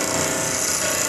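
A high-speed steel lathe threading tool is pressed against a bench grinder wheel, giving a steady, bright abrasive hiss and whine that holds unbroken and fairly loud throughout.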